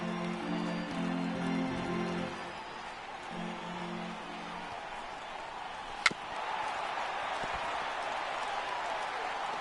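A crowd of over 39,000 in a baseball stadium in MLB The Show 18 roars and applauds in a steady wash of cheering, with a sharp bat crack, while a commentator talks over it.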